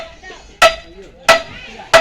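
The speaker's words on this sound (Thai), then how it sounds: "กำลังตอกเนาะ" Three sharp, evenly spaced hammer blows land about two-thirds of a second apart, close and loud, during work on a house that is being moved, with quiet background between strikes.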